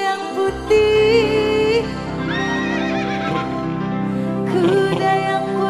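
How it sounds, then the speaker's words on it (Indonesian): A horse neighs loudly as a sound effect inside an upbeat Indonesian party song, its whinny standing out over steady music and singing. "Kuda yang putih."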